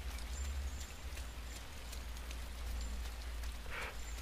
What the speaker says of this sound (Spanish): Ahora se nos ha puesto a llover con ganas.